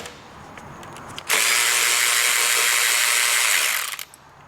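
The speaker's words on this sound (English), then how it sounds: "So here's this clamp for the brake hose, 8mm socket." A powered driver with an 8mm socket spins off the brake hose clamp on a Piaggio BV400 scooter: one loud, steady whirring burst of about three seconds with faint clicks before and after.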